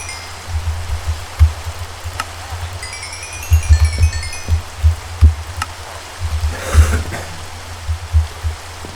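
Rain falls in the Minecraft video game as a soft, steady hiss, overlaid by repeated low thumping footsteps and a few faint clinking tones.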